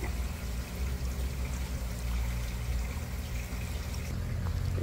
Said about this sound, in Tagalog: lalabas yan from sump tank, lalabas dito yung tubig